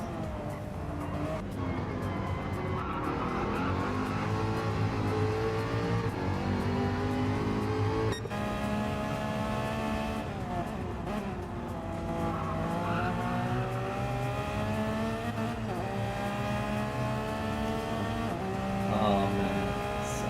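Race car engine in Gran Turismo 7, droning continuously under throttle with rising and falling pitch as it shifts, loud and steady throughout, with tire noise mixed in.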